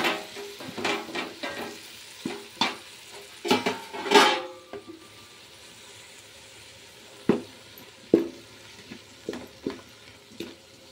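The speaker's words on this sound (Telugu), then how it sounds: "కారం బాగా మగ్గిన తర్వాత టమాటో వేసుకుందాం. వేసి మిక్స్ చేసేద్దాం." Chopped tomato is stirred into hot oil and chili in a pan for a vegetable fry. A spoon scrapes and clinks in irregular bursts over a soft, continuous sizzle, with quieter gaps between strokes.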